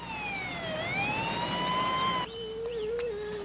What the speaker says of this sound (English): A St. John's ambulance was immediately dispatched.